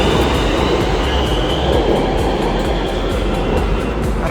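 A Rapid Metro train runs on its line, heard from inside as a loud, steady rumble and roar with faint regular clicks from the wheels over the track.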